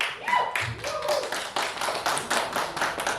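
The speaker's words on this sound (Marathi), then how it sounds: "एकदा जोरदार टाळ्या होऊन जाऊ दे" Applause from an audience at a Marathi stand-up comedy show, a spread of hand claps with rhythmic rises, fairly close and loud, with a brief voice and a whistle-like tone near the start.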